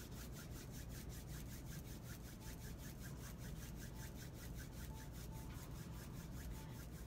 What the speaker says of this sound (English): Now I want you to rub your hands together,